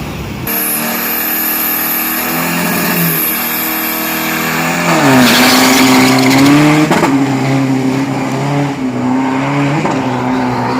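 A heavy-duty turbo 3.0 pickup truck drag races down a 402 m strip, its engine roaring loud and continuous with rising revs, a gear change midway and faint tire noise.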